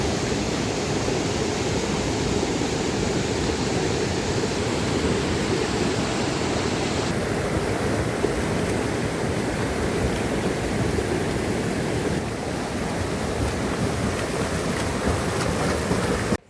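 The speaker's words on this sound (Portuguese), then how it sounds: "Não, a água tá bem forte." Strong, full river water rushes and pours continuously at the Poço do Amor waterfall pool in Lavrinhas, São Paulo, a loud, dense, unbroken roar close by.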